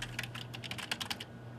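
Quick keystrokes on a computer keyboard as a magazine title is typed into a library search field, a short irregular burst of about a dozen clicks, close and fairly quiet, then a brief pause.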